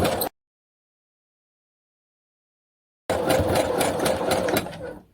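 Sewing machine stitching along the edge of a junk journal page in two bursts: a short one at the start, then a close, steady run of about two seconds after a silent gap, slowing to a stop.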